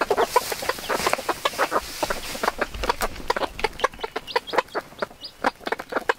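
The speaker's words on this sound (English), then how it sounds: "we have 3 healthy chickens in here that are absolutely doing great" Three chickens cluck and murmur close by inside a coop, with short, irregular calls that keep going throughout.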